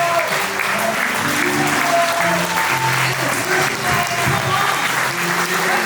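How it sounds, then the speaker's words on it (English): Audience in a prison chapel-style gathering applauds steadily for about six seconds, a dense, even wash of clapping with faint voices mixed underneath. "Let's give him a round of applause."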